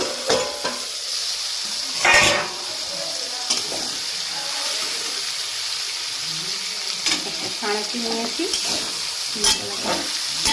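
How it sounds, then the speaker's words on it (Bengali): Steady sizzling of plantain frying in hot oil under a covered pan, with occasional stirring scrapes and a brief spoken phrase over it. "কলাটাকে ঢাকা দিয়ে দিয়ে আমি ভেজে নিচ্ছি"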